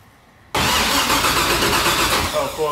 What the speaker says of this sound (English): We're gonna spin the engine over, quickly start it, and then shut it off immediately